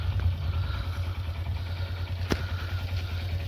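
A motorcycle troubled after riding through waterlogged roads on a rainy day runs at a low, steady idle close by, with one short sharp knock partway through.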